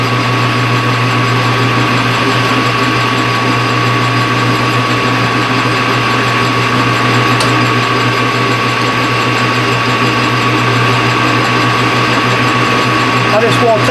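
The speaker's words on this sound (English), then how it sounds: "I just want to take a light cut with the facing tool, clean it up" Metal lathe taking a light facing cut across flange nuts, a loud continuous mechanical whir with a steady hum and gear-like chatter and no pauses throughout.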